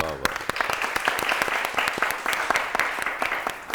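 An audience at a televised morning show claps steadily and briskly, dense sharp hand claps filling the whole stretch at close range, with a brief voice at the very start.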